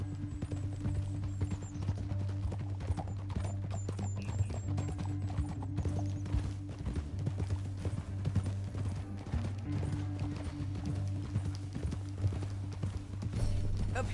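Horse hooves clip-clop steadily through a Western canyon in the video game Red Dead Redemption, an even rhythmic trot heard alone over a constant low hum of game ambience for the whole stretch.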